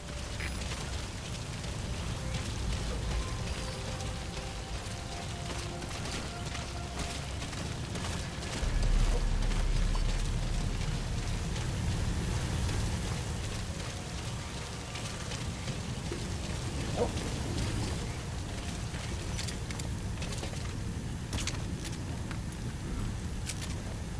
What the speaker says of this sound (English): The sound of rainfall should help to mask your footsteps.